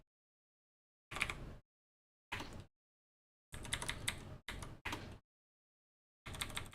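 Typing on a computer keyboard while writing code in a Python lesson: five bursts of key clatter, some short and some longer runs, separated by silent pauses, close and fairly loud.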